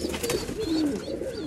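Pigeons coo in a coop, low throaty rolling calls repeating close by over a faint background hiss, with no voices.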